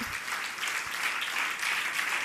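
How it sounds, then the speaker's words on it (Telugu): A church congregation clapping their hands in praise, sustained, dense applause from many people filling the room at an even level from start to finish. "చప్పట్లు కొట్టి దేవుని స్తుతిద్దాం."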